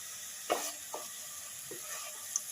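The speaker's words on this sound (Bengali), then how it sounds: "এবার আমি এতে 2 চামচ আদা, রসুন, কাঁচা লঙ্কা বাটা দিয়ে ভালোভাবে নেড়ে নেব।" Ginger, garlic and green chili paste sizzles steadily in a pan with onion paste, with a few soft scrapes of stirring on top of the frying hiss.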